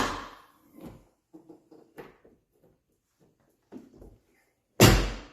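The door of a 2022 Polaris Ranger SP 570 is swung on its new strut. A soft rattle comes first, then a few light clicks and taps, and it finishes with a loud, solid slam near the end.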